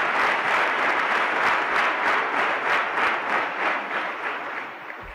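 An audience at a talks and music program bursts into dense, sustained applause, clapping loudly and evenly before it thins and fades toward the end.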